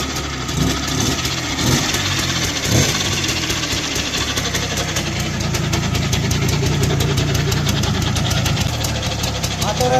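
Motor engine idling nearby with a steady rough mechanical chugging and rattle, loud and continuous while a person talks over it.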